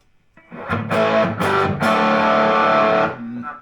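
A boosted, overdriven electric guitar through a Fender Blues Junior amp strums a few chords, then sustains a thick, saturated ringing chord that fades at the end.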